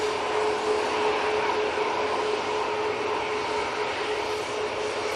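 A Ryanair airliner departs Manchester Airport, a steady, fairly distant jet roar with a thin sustained whine running through it.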